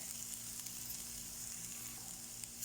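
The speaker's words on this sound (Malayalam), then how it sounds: "മസാലപ്പൊടി മൂത്ത് വരുമ്പോൾ നമുക്ക് മിൻസ് ചെയ്ത ബീഫ് ഇട്ട് കൊടുക്കാം" Minced beef fries in a spice masala for kappa kalmas, giving a steady, soft hiss of sizzling oil that runs unbroken throughout with no voices.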